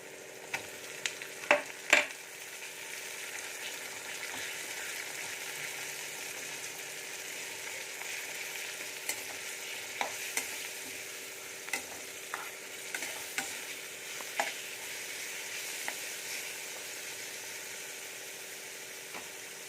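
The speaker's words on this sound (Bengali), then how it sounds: "পেঁয়াজগুলো ভাজা হয়ে গেছে এবারে বেটে রাখা চিংড়ি মাছটা দিয়ে দেবো" Ground prawn paste sizzles in a pan with already fried onions, a steady close frying hiss broken by sharp scrapes and clicks from stirring, with no voices.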